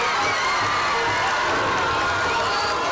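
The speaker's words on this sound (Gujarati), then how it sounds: "જોરદાર તાળીઓ પાડીએ" A school audience claps and cheers in a continuous, loud wash of crowd noise, with children's shouts mixed into the steady roar.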